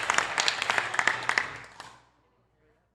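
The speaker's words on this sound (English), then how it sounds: "Crowd is cheering like crazy." Crowd cheering and applauding after a great point in a mixed intermediate division game, with dense clapping and shouts that fade out over about two seconds before near silence.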